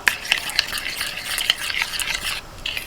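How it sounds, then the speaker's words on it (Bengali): Whipped yogurt stirred together with a ground paste of mustard, poppy seeds, melon seeds and green chilli in a bowl, giving close, rhythmic wet scraping and light clinks of a spoon, with no talking. "এই ফেটানো দইয়ের মধ্যে আমি দিয়ে দিচ্ছি সর্ষে পোস্ত আর চার মগজ দানা কাঁচা লঙ্কা যে একসাথে বাঁটা আছে সেটা এটাকেও ভালো করে মিশিয়ে নেব"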